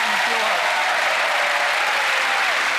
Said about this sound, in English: A nice round of applause for gentlemen.